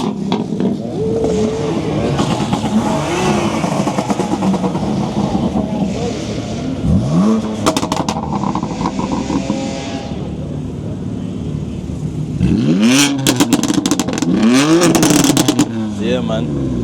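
Cars revving hard at a crowded London car meet, with exhaust pops and bangs in crackling bursts, loud and close, engines rising and falling with several sweeping revs while people talk nearby.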